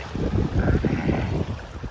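Loud wind buffets the microphone over the rush of surging water, like waves churning close by.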